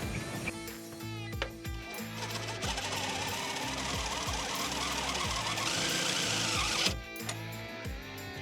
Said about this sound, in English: we are drilling into just plastic here, so no need to go crazy with the drill